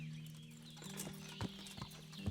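Horse hooves clip-clop in Kingdom Come: Deliverance, a few slow, soft, fairly close steps over a steady low hum of game ambience.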